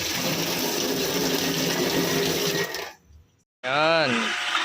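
Water rushes steadily from an automatic water pump system fed by three motors from one source, a loud continuous gush that cuts out abruptly, followed after a short silence by a brief spoken voice.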